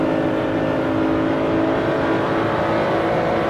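A race car roars down the back straight in the racing game Assetto Corsa, its engine droning steadily and loudly at high revs for the whole stretch with no talk over it.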